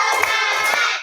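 Primary-school children in a classroom clap together on the teacher's count, a brief burst of dense hand claps with a couple of sharper accents, close and fairly loud.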